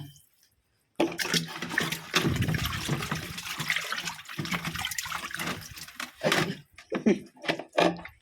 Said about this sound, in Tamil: நம்ம கோழியை நல்லா கழுவிக்கணும்.